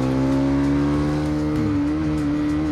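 A sport motorcycle engine held at high rpm on a track, giving a loud, steady, droning whine with slight pitch shifts throughout and no talking.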